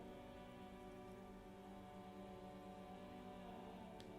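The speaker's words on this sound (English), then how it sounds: "This rain will not let up anytime soon." Steady rain falls on the streets of a snowy city plaza in the Disco Elysium game, a constant soft hiss with no breaks, faint and even throughout.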